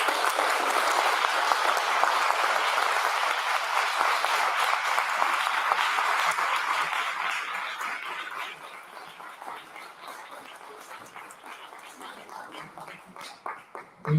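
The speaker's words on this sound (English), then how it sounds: "Thank you for this applause, well deserved." An audience at a conference plenary session applauds in a long, dense wash of clapping that holds steady, then thins out and fades near the end, with a voice coming in as it dies down.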